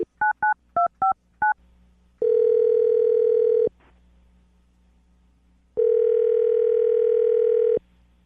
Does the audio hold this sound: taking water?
no